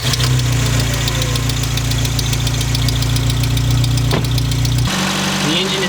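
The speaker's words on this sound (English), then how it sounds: "I'm going to start the car up, and we'll idle it." A project car's engine idles steadily and loud up close with a constant low rumble and faint knocking, running hot while waiting for the cooling fan to kick on; the idle drops abruptly near the end.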